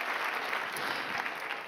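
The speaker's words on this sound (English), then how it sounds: "Give them a round of applause" An audience claps for volunteers at a live event, a dense, steady applause from a crowd that holds evenly throughout.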